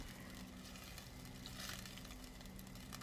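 Coconut milk stirred in a cooking pot while making shrimp noodle soup gives a soft, steady sizzle with faint scraping and bubbling, low and continuous throughout.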